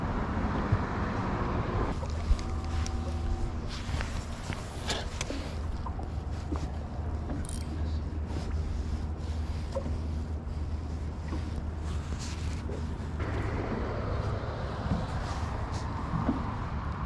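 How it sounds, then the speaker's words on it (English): Wind gusts across a lake during bass fishing from a boat, a steady rushing hiss with occasional knocks and rattles close by and a faint low hum underneath. "It wasn't supposed to be this windy today"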